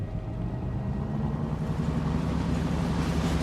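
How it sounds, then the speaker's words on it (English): A ship's engines starting up at sea, a low droning rumble with a steady hum that grows slightly louder and fuller, heard alone without talk. "Listen, the engines are starting again."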